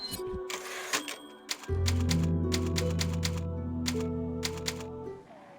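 Keys clack in a quick, irregular burst on a computer keyboard while entering a save in the 2005 game Resident Evil 4, close by, alongside a steady game tone with no speech.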